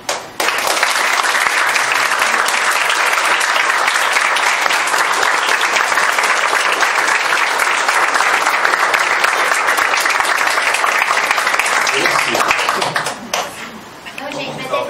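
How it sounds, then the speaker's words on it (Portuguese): Sustained, loud applause from an audience at a talk on milk and its problems held in a restaurant, steady for about thirteen seconds with voices mixed in, then thinning out near the end. "Então eu peço palmas."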